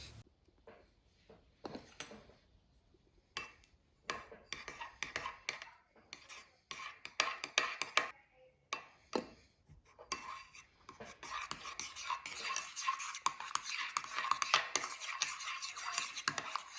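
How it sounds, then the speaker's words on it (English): Glue and colour powder are stirred in a bowl to make slime, giving close, intermittent scraping and wet clicking strokes that grow denser and more continuous toward the end, with no talking. "I have kept on mixing it until all the colour has been in"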